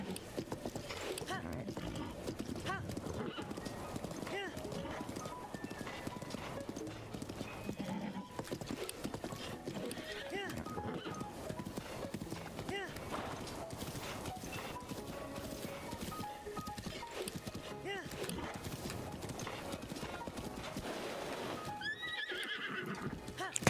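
A horse gallops in Breath of the Wild, its hooves clip-clopping in a steady running rhythm with occasional neighs under game music and effects, while someone talks over it.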